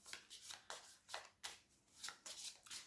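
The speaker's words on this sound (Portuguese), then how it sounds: "Vou agora baralhar os arcanos maiores do tarot, o Mystical Realm Tarot." Tarot cards from the Mystical Realm Tarot major arcana being shuffled by hand, a series of soft riffling bursts in an irregular rhythm, close and quiet, with no talking.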